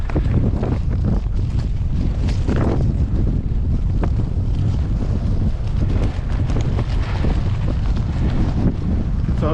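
Steady wind buffets and roars across the microphone throughout, a loud continuous breeze rushing past outdoors beside an old railway siding, with low rumbling gusts and no speech.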